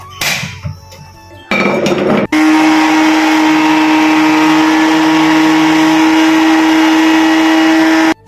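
An imported kitchen blender starts with a couple of short bursts, then runs loud and continuous with a steady whirring motor drone and a strong whine until it cuts off at the end.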